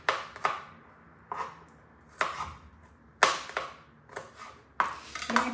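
Garlic being chopped with a knife on a board: separate sharp, crisp chops come in small clusters roughly every second, close and clear against quiet background hum, with no speech.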